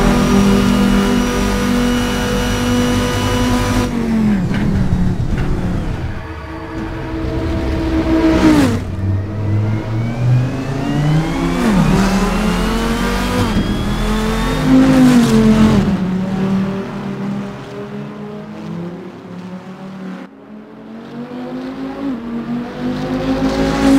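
The V10 engine of a GT race car in the Assetto Corsa racing game revs loudly and continuously, rising and falling through repeated accelerations and gear changes, with no voices.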